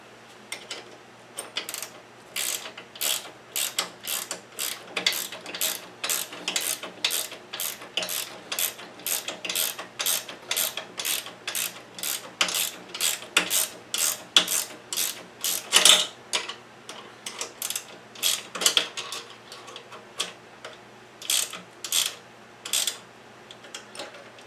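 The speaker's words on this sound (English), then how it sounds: "About to tighten up this master cylinder." A ratchet tightens bolts on a go-kart brake master cylinder, a long run of quick, close metallic clicks in steady rhythmic bursts.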